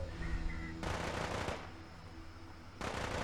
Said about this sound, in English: That's like minigun fire.